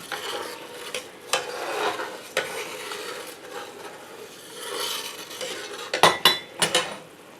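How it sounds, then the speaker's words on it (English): A sauce for waffle-iron beef Wellington is stirred in a pan, with scraping swirls and soft utensil rubs building and fading, then a few sharper metallic clinks near the end, close and without talk. "Stir that around"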